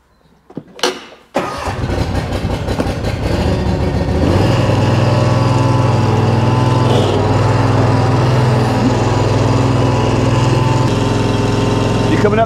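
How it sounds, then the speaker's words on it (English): A lawn mower engine starts with a brief pull, then runs steadily and loudly while shredding fallen plane tree leaves, its drone deepening slightly as it settles into the cut. "by far the easiest way to deal with them is to go out with a mower, chop them up, turn them into worm food"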